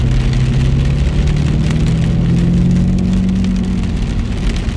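Rain patters steadily on a Polo 6R GTI while driving, a dense wash of drops over a low droning engine that rises slightly in pitch, loud and continuous.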